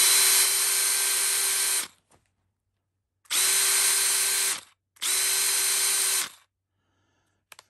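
A Makita XFD13 cordless drill whirs at its second speed setting in three high-pitched bursts of roughly a second or more each, separated by short silences, close and loud.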